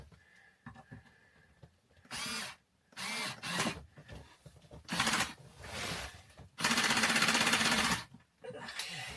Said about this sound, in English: We're going to take our screw gun.